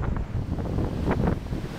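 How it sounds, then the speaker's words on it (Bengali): Loud, steady roar of big sea waves crashing on the shore in Ganjam, Odisha, with gusting wind buffeting the microphone and a couple of wave surges swelling through the noise. "আপনারা দেখতে পাচ্ছেন সমুদ্রের কি বিশাল বিশাল ঢেউ পাড়ে আছড়ে পড়ছে।"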